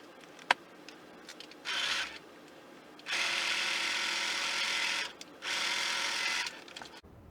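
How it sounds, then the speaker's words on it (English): A sewing machine stitches vinyl for a patchwork clutch, running in three close bursts of rapid, even whirring separated by pauses, with a sharp click near the start and no talk. "I'm going to take it to the sewing machine, and I'm going to sew a quarter of an inch away from this fold here"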